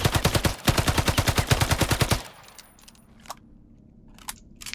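Rapid automatic gun bursts in Islands of Nyne: a fast, evenly spaced string of loud shots for about two seconds, then quieter clinks and a few short sharp sounds.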